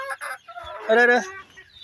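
Chickens cluck in short, close bursts, with a louder run of throaty calls in the middle, around a pen of young chicks at feeding time.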